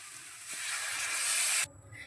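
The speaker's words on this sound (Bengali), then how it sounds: "এবার আমি দিয়ে দিচ্ছি পরিমাণ মতো জল।" Water poured into a pan of spiced potatoes frying for a soybean curry, a loud rising hiss and sizzle building for about a second before cutting off sharply, leaving a quiet low rumble.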